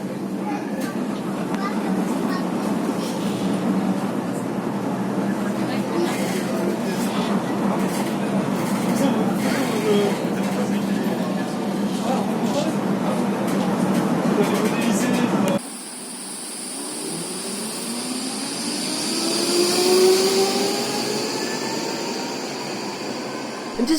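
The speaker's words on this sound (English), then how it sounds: "And now to the bog standard type of tram." An old-style tram in Geneva rumbles and clatters steadily from inside for about fifteen seconds, then the sound shifts to a whining electric motor rising in pitch as it slowly accelerates.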